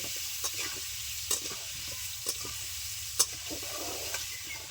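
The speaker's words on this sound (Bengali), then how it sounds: "হালকা করে একটু ভেজে নেব" Vegetables frying lightly in oil give a soft, even sizzle, broken by occasional spatula taps and scrapes against the pan at irregular intervals.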